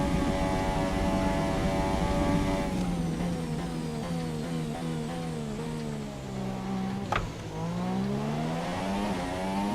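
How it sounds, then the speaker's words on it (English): An F1 car engine in F1 2017 screams at high revs with a strong harmonic whine, dipping and climbing through gear changes as the car accelerates, loud and close with no voices. "the noise we're hearing in the car"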